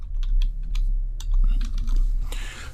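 Rapid clicking keystrokes on a computer keyboard while entering a button label on a software form, close and clear, in irregular bursts with short pauses and no talking.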